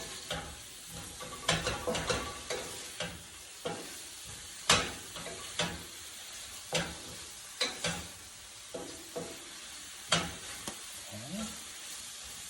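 Sliced onions and sweet peppers sizzle in hot oil over lowered heat, with a soft constant frying hiss broken by repeated scraping, tossing strokes of a utensil in the pan; a voice briefly speaks.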